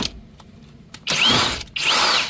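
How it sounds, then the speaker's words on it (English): Power drill whirring in two short loud bursts, loosening the strut nut on a Toyota Camry front strut, with a brief pause between the bursts. "But let me try the drill."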